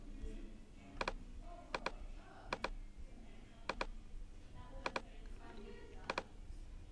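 Crisp computer mouse clicks while making a selection in Photoshop, six evenly spaced pairs of quick double clicks, close and distinct over a quiet room hum.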